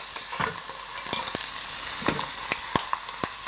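Onions fry in a pan for a chicken casserole, a steady close sizzle broken by a series of sharp scraping clicks as a utensil stirs them, irregular strokes about every half second.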